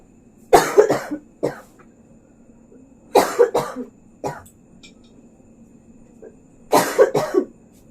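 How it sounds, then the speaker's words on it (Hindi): A woman coughs in several separate bursts, each a rough cluster of two or three hacks with short pauses between, close and fairly loud against a quiet indoor background. "बस खांसी की वजह से परेशान हूँ"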